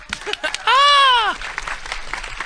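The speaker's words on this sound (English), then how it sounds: "Let's give them a round of applause." An audience at an RTX Sydney 2017 convention panel gives a round of applause: scattered clapping with a loud whoop rising over it, then the clapping carries on more softly.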